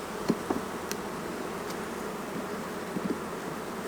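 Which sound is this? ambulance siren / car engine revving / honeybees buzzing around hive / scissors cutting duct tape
honeybees buzzing around hive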